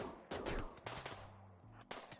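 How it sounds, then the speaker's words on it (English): Gunfire in the video game Rimworld, version A16, comes as a rapid volley of sharp shots followed by scattered single pops and a short electronic tone, fairly faint and with no talking. "Don't shoot Julian, guys"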